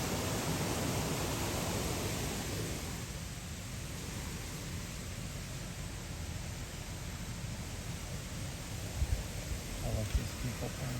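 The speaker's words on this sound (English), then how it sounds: "You can hear a little waterfall or something down there." A small waterfall in Tawawa Park, Sidney, Ohio, gives a continuous hiss of falling water that holds steady throughout, with a few faint knocks near the end.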